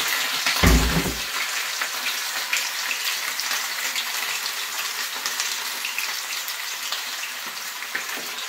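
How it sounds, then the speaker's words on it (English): Chicken breast deep frying in preheated hot cooking oil, a brief heavy splash as it drops in, then a continuous loud crackling sizzle with no talking. "So we're gonna deep fry this in a preheated cooking oil."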